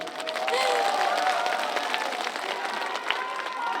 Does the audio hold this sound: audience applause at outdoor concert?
yes